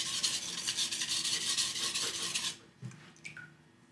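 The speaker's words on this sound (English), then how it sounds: "So I'm sharpening this way right now." A knife blade scrapes back and forth across a whetstone in steady, close, gritty strokes for a couple of seconds, then stops, leaving a few soft handling knocks in a quieter space.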